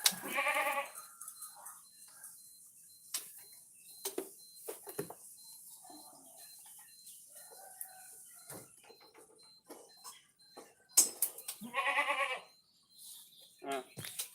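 A goat bleats twice, loud and nearby, once at the start and again near the end, with quiet scattered clicks and shuffling in between.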